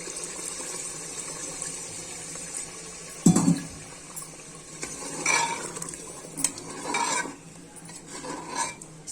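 Water poured into browned kofta curry masala in a pot, followed by stirring with clinking of a metal spoon against the pan, close and fairly soft, with a louder splash early on.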